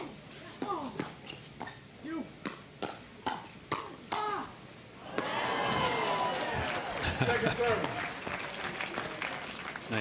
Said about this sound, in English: Nice interchange with some applause from the crowd